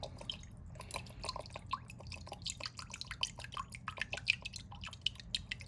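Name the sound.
pouring Worcestershire sauce into a measuring cup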